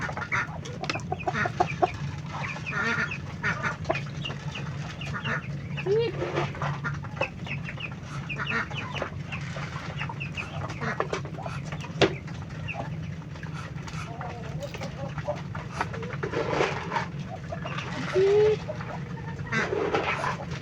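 Backyard chickens and ducks at feeding time, their clucks and quacks coming in scattered bursts over a steady low farmyard hum, with a few sharper calls standing out near the microphone.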